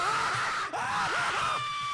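Monster from the Slendytubbies horror video game letting out an ungodly loud, distorted, warbling scream with a brief cutoff midway, harsh and piercing throughout.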